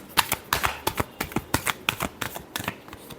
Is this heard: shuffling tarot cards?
yes